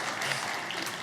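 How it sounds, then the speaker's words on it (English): Audience applause after a church-style gathering, a steady wash of clapping from a crowd throughout the brief moment, with no voices standing out. "Can we clap for her one more time?"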